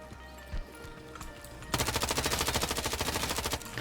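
Automatic gunfire in a single-player Tarkov game: a close, loud, rapid burst of evenly spaced shots lasting about two seconds, preceded by quieter game ambience and a single earlier thump.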